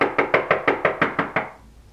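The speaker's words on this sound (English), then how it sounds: "Someone's knocking at my door." Knocking on a door: seven sharp, evenly spaced raps in quick succession, fairly loud and close, then a brief quiet tail with no voices.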